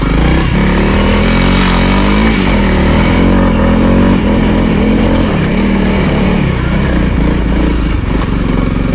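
A Honda CRF300L motorcycle climbs a snowy hill, its engine loud and close throughout, revving and straining steadily with shifting pitch.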